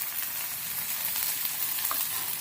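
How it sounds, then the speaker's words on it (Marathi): Frozen peas and tomato stir-fry in a pan with a continuous bright hiss of sizzling oil, heard close and fairly soft, with no talking. "आता परत परतून घेऊया."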